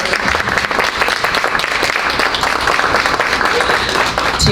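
Steady, loud audience applause fills a public meeting at the Reginald F. Lewis Museum in Baltimore, dense clapping from many hands sustained evenly throughout.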